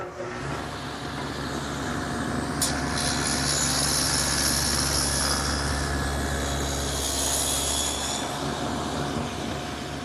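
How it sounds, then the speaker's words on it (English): Power tool cutting a groove into oak wood, a loud steady whine and roar held throughout with no pauses. "the last groove that I have to make is in the side of each piece"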